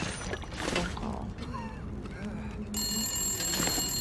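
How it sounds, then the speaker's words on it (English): A telephone rings with bright, repeating bell tones in the survival game The Long Dark, Wintermute story mode. The ringing grows clear and steady in the second half, over faint background sounds and soft talk. "there's a phone call"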